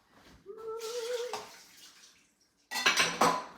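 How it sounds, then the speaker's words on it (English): Boiled potatoes being drained from a kitchen pot: a stretch of pouring, splashing water, then a sharp burst of clanking metal cookware, close and fairly loud with no talking. "let me drain these potatoes"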